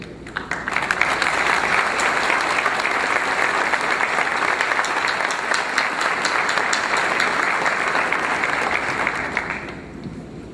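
Sustained applause from a large audience at the Clinton High School 2015 graduation ceremony, steady and dense for about ten seconds before tapering off.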